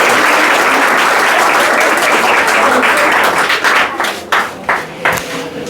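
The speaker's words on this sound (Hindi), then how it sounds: "प्रीति के लिए ताली बजाओ" Students clap for Preeti at a school grammar test prize distribution, a dense steady applause that thins into a few scattered claps near the end.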